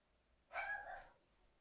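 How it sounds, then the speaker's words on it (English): Dogs give a single short bark or yip, fairly close and clear, breaking a quiet room for about half a second before fading back to near silence. "The dogs agree."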